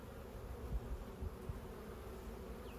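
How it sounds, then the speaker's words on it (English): Honey bees buzz steadily around a hive after a swarm, a low continuous drone close by, with a few soft knocks and handling bumps and no talking. "there are still quite a few bees on the side"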